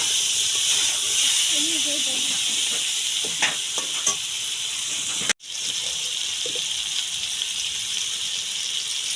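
Pumpkin pieces sizzling in a hot pan with cumin and coriander powder while being stirred, giving a continuous close hiss with a few spoon scrapes, a brief dropout midway, and faint speech underneath.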